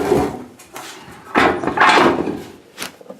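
Cast-iron oven door on a Kalamazoo wood cook stove with a broken corner piece and a broken spring, handled in a few knocks and clanks, close and fairly loud, alone without talk.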